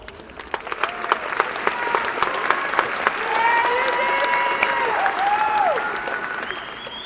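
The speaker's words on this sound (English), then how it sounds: "Give yourself a round of applause." Graduation audience applauding the high school class of 2019, a broad wash of clapping that swells midway and holds steady, with cheers and whistles rising over it and a few sharp individual claps standing out.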